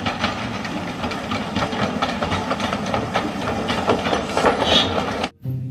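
A train sound effect plays continuously with a rhythmic chugging, hissing steam and engine rumble, fairly loud and alone, cutting off abruptly near the end.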